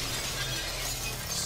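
Glass shatters in the video game Prey, a dense steady crash and tinkle of breaking panes that fills the short moment at moderate level with no voices over it.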